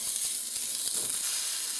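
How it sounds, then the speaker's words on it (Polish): A hamburger patty fries on a hot griddle with a steady, close, loud sizzle and hiss that holds evenly throughout, with no voices. "Popatrzcie, mój hamburger się tutaj smaży"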